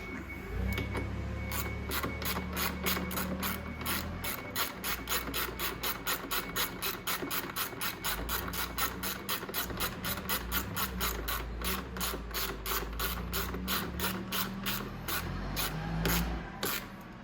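Ratchet wrench tightening a bolt on the rear brake assembly of a Venom Grizzly 125cc, a fast, even run of close mechanical clicks continuing for the whole stretch, with no talk.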